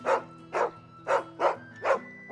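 A dog in Final Fantasy 16 barks five times in an even rhythm, each bark short, clear and close, with a faint steady tonal background between them.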